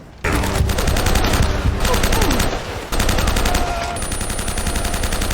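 Rapid gunfire in the video game Uncharted: Drake's Fortune, loud bursts of automatic shots that start abruptly, pause briefly, then resume with sustained firing until cutting off near the end.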